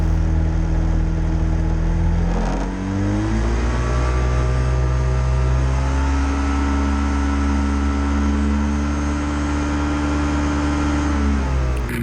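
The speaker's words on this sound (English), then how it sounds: "Okay, we give the engine a good run up." A Rotax 503 two-stroke engine on a Quicksilver GT400 ultralight runs up from idle, its droning tone climbing in steps to a loud sustained high-rev buzz, then dropping back near the end.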